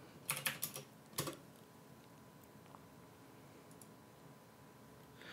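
Quiet computer keyboard typing: a quick burst of several key clicks followed by a single louder keystroke, like pressing enter, then near silence with faint room noise.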